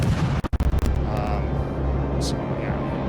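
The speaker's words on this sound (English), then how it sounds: "those shots coming in from Fuso will obliterate the Hawkins" Gunfire from the battleship Fuso in a naval video game: a heavy, rumbling boom rolls under a brief burst of sharp crackles, then a loud sustained roar, with a voice talking over it.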